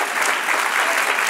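Church congregation applauding during a Spanish-language sermon, a steady dense wash of clapping that holds at even loudness throughout.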